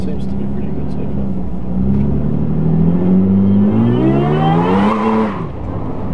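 A supercharged Toyota Hilux accelerating at full throttle on a highway, its engine note climbing steadily in pitch over several seconds before easing off at a gear change, loud and close from inside the cab, with voices talking over it.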